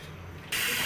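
Pressure cooker lid on a pot of spinach for Sindhi palak lets out a sudden loud, steady hiss of steam after a quiet start.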